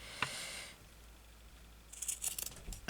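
Scissors trim off excess fabric while making a craft pouch for ephemera, with a crisp close snip early on, then a quick run of several faint snips toward the end over a quiet room.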